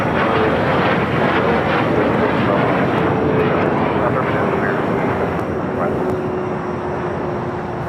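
A United airliner takes off from runway 25 right at LAX with a close, heavy jet roar and wind buffeting. A faint whining tone slides slowly downward beneath it, and the noise eases a little near the end.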